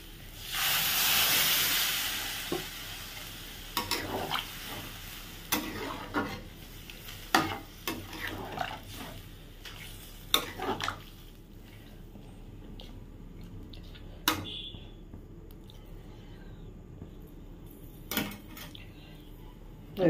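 Water poured into a hot pan of spiced potato and pointed gourd curry cooked down with masala and a little yogurt sets off a loud hissing burst, which fades into quieter simmering broken by sharp clinks of a utensil against the pan.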